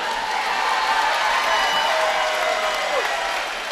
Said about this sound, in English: a round of applause for these two fighters